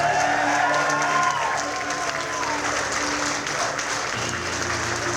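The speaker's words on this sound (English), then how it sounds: "How about a round of applause?" A crowd at a Republican election night victory celebration in Glens Falls, New York, gives sustained, even applause, with a brief voice-like tone near the start.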